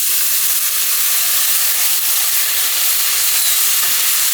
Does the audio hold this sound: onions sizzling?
yes